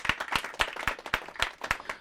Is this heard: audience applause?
yes